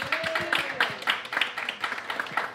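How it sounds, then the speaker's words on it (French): Applause at a community organisation's first annual general meeting, a small group clapping in an irregular patter over a few seconds, close and moderately loud, with a voice briefly sounding over the claps. "j'ai le goût de vous applaudir"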